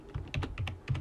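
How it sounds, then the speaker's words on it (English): A short burst of quick, soft keystrokes on a computer keyboard, several light clicks in a fast uneven rhythm, close and fairly quiet. "Keyboard"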